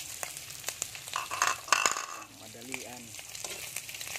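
Garlic and onion frying in hot oil for a breadfruit (kamansi) dish, a steady close sizzle with stirring clatter and a brief burst of louder crackle, while a voice speaks briefly over it.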